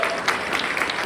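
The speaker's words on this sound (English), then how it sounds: "We have got to applaud Dr. Hood and the light of his life, Robin, one more time" An audience applauds, a dense, steady patter of many hands clapping close and loud throughout the short stretch, with no speech over it.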